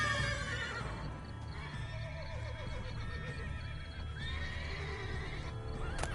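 A horse in the Witcher 3 video game whinnies several times and clip-clops on the ground, layered over a low ambient game soundscape with no speech.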